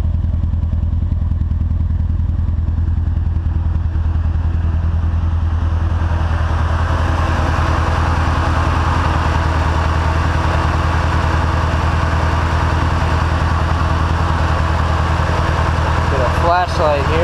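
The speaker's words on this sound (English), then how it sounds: "I'm just gonna let it sit here and idle for a minute" A turbocharged Nissan 240SX engine idles steadily with a loud, even, rumbling drone, a faint clatter layered on top, and a brief knock near the end.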